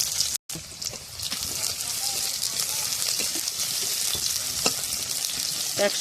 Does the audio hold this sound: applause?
no